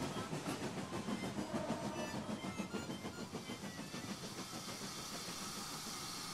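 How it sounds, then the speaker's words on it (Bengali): A train rolls along with a rhythmic clickety-clack of wheels on rails, the beat gradually easing as it slows down arriving at Srinagar railway station. "গাড়ি শ্রীনগরের রেলওয়ে স্টেশনে এসে থামল"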